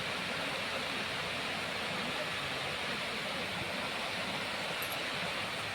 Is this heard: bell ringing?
no